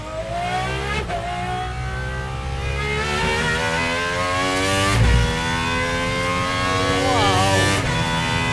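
Gordon Murray Automotive T.50s with its V12 engine, revving hard on a race track, a loud, high-pitched engine wail climbing through repeated upshifts with sharp breaks between gears, close and continuous.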